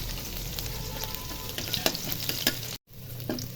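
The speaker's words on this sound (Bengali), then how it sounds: "এখন রসুন দিয়ে দিব, রসুন ভেজে নিব।" Garlic cloves frying in hot oil after a dried red chilli, a dense, close crackling sizzle with sharp pops and a few utensil clicks, briefly cut off near the end; nobody speaks.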